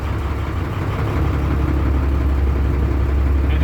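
A tractor truck engine runs with a steady, heavy low rumble as the rig is eased slowly forward during an air brake test, constant and close with no talk.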